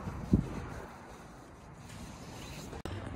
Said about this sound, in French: Il fait un froid, mes gens. Un vent de fou.